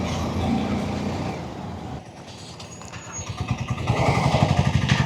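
A motorbike rides through city traffic, its engine a rough continuous drone that fades briefly, then comes back with a pulsing throb while other vehicles rumble nearby.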